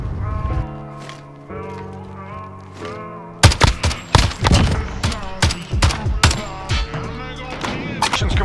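Bursts of SA87 light machine gun fire in a Search and Destroy match of a shooter game, loud rapid volleys of close shots with explosive cracks, while a voice talks over the action.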